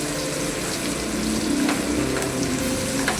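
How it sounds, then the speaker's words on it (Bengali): Chopped onion and chilli fry in oil in a wok, giving a loud, steady sizzle with faint stirring scrapes throughout and no voices. "দেখো পেঁয়াজটা আমার ভালো মতো ভাজা হয়ে গেছে"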